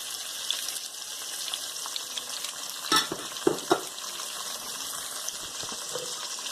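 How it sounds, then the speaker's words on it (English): Beef stew vegetables with corn, celery and diced tomatoes get stirred in a pot, with a soft wet sizzle underneath and a few close spoon scrapes and clunks near the middle. "I'm going to take and stir that around."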